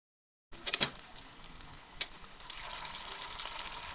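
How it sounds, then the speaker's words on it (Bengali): Soya cutlets fry in a pan with a steady, bright sizzle that starts abruptly after a brief silence and grows a little denser and louder, with a few sharper spits and crackles along the way. "সয়া কাটলেটগুলো একদম সুন্দরভাবে পারফেক্টলি ফ্রাই হতে আমার সময় লেগেছে 6 থেকে 7 মিনিটের কাছাকাছি"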